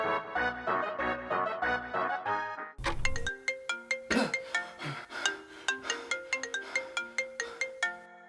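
A musical phone ringtone plays in a Mario character video, first a dense chiming phrase, then bright plinking notes repeating in a quick, even rhythm, clear and alone.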